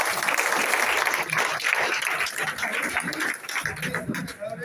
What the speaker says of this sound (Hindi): जोरदार तालियों के साथ इस सेशन को एंड करता हूँ।